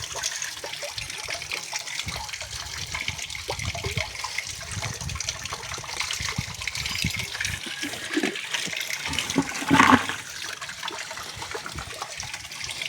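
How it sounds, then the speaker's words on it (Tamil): Water being mixed with fertilizer powder makes a steady, close sloshing and trickling sound, with a brief louder splash near the end and no talk. "பாருங்கள், தண்ணி விட்டு மிக்ஸ் பண்ணிங்கன்னா இந்த மாதிரி வரும்."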